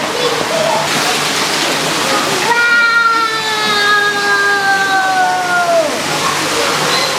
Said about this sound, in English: Lou, come and see this waterfall.